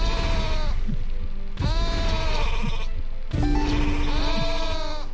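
Sheep in the video game Rain on Your Parade bleat three times in a row, each a loud, wavering, drawn-out cry, close and clear with no talk over them.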